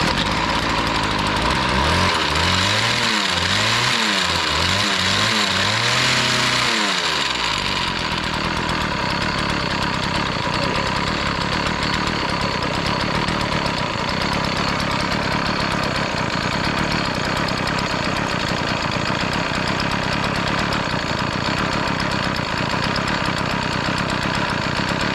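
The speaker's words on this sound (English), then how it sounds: "Well, we got it to throttle fully, but now the idle's a little low." A cheap secondhand chainsaw with a rusty, freshly adjusted carburetor revs up through several loud throttle bursts, then settles into a steady, close, buzzing idle that runs on alone for the rest of the clip.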